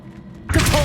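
The Revelio spell is cast in Hogwarts Legacy, a sudden bright shimmering burst that swells in after a quiet moment and rings on loudly to the end.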